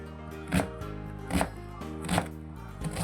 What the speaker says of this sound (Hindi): प्याज को आपने चॉप करना, चॉप काटना अपना प्याज